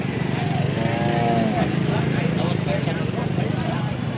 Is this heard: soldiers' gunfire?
no